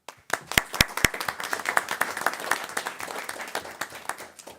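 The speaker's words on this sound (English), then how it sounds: "we could give a little hand clap for that." A small group claps, starting with a few sharp separate claps and settling into steady, moderately loud applause.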